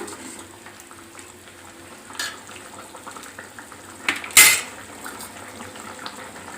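Egg and tomato curry cooks in a pan over a low background simmer, with a couple of sharp metallic clinks and a brief clatter of utensils against the pan near the end.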